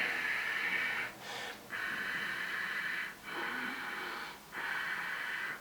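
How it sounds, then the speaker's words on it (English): Ujjayi breathing, a nasal breath drawn with a constricted throat, rasps in long steady hissing strokes with brief pauses between them, close and alone with no talking. "and so it's like that, ujjayi breathing."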